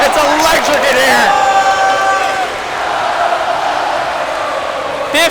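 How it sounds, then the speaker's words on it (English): A basketball arena crowd roars and cheers loudly and continuously at a high school state playoff game, with shouts in the first seconds, then a sustained, dense roar that carries to the end. "And this crowd is booming here in Inman Center."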